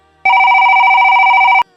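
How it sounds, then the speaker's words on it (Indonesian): A telephone bell rings loudly in one continuous burst of about a second and a half, with a steady electronic trill and no voices. "tiba-tiba suara telepon berdering"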